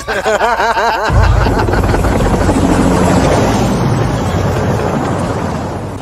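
A helicopter in a video game makes a loud, steady rotor roar with a heavy low thrum, close and continuous, preceded by a brief rapid chopping pulse.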